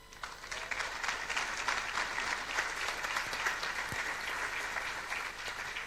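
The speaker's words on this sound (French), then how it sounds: "Mais je propose qu'on commence par les applaudir." A crowd applauds steadily for several seconds, dense even clapping at moderate distance with no voices standing out.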